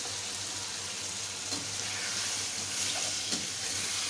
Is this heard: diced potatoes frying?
yes